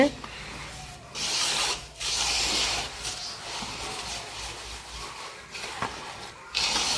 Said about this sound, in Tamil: நல்லா கையாலே கலரணும்.